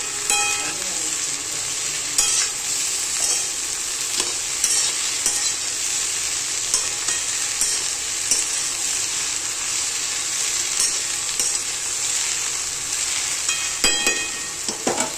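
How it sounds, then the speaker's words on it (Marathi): Village-style okra (bhendi) fries in hot oil, loud and continuous, with crackling and sizzling and repeated scraping strokes of a spoon as it is stirred; no talking. "आता ही पहा चांगली फ्राय होऊन द्यायची"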